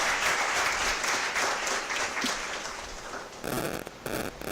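Audience applause at a PGDM batch inauguration ceremony, dense and steady clapping from a large crowd that fills the space, easing slightly before swelling again near the end.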